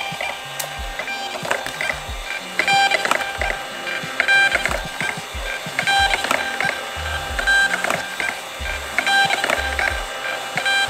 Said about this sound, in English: This printer does not use ink, it uses heat to print on heat sensitive labels.